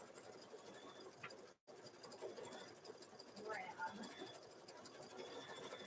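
An embroidery machine stitching free-standing lace makes a soft, continuous mechanical whir with faint rhythmic chatter, heard fairly quietly with a brief dropout.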